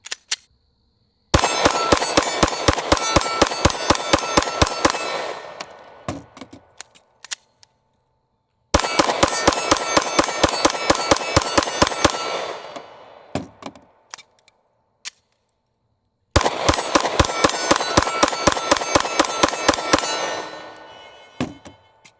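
A Glock Gen 5 pistol fires three long strings of rapid, evenly spaced shots, each a burst of sharp loud cracks lasting a few seconds, separated by silent pauses for reloading.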